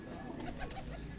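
Soft, low pigeon cooing from rooftop pigeons, a few throaty coos close by over faint background noise.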